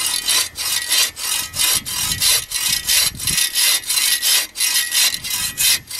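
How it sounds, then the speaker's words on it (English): Hand saw cutting very hard, very old Australian bush timber, close and loud rhythmic rasping strokes, about a dozen back-and-forth pulls at a steady pace, with no talk. "This is very hard, very old timber, Australian bush timber, and what you're doing is just letting the blade do the work"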